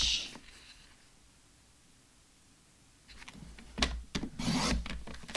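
Paper is being cut from cardstock near the end: several short, sharp scraping strokes close by, after a quieter stretch of faint rustling, with no voices.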